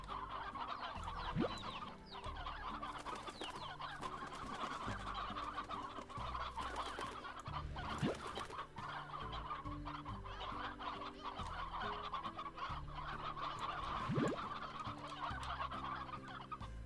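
Chickens in the game Slime Rancher cluck steadily in a dense, continuous flock chorus, a few sharper squawks standing out, without any talking.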